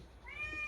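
A single short, faint meow from a cat, rising then trailing off, over quiet background.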